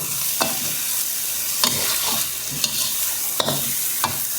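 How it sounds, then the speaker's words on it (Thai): Fish roe stir-fried with holy basil and dried chilies in a hot pan: a loud, steady sizzle broken by sharp scraping strokes of the spatula at irregular intervals, with no talking. "ผัดแบบนี้ไม่ต้องลวกนะครับ"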